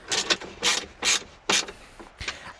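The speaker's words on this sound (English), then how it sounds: "these are only little 8mm headed bolts, so there's just a nip to tighten these up" A ratchet wrench tightens small 8mm-headed bolts on the battery of a 2012-on Ford Transit Custom van, giving four or five short, close ratcheting bursts separated by brief pauses, with no talking.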